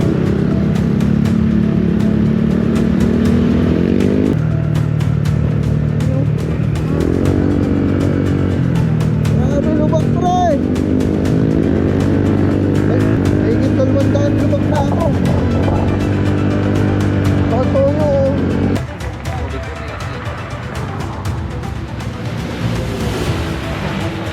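A motorcycle rides over a bumpy, potholed road in Bicol. Its engine hum rises and falls in pitch as the rider shifts and slows over the rough surface, with rattling jolts, and it eases off toward the end.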